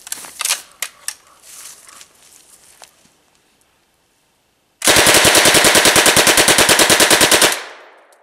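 At a shooting facility, a firearm faster than a Glock 17 fires at a rubber dummy target in one long, loud, rapid automatic burst of about three seconds. It follows some earlier scattered clanks and a pause, and a brief echoing tail trails after it.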